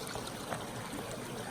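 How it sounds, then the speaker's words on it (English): A small desert stream on the Pacific Crest Trail, crossed on foot, gives a steady close trickle and wash of running water throughout, with no voices. "My first little baby stream crossing."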